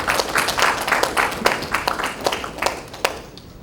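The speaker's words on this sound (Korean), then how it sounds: "큰 박수 한번 부탁드리겠습니다" A crowd at a Democratic Party committee launch ceremony in South Korea applauds, with steady, fairly loud clapping from many hands that thins out toward the end.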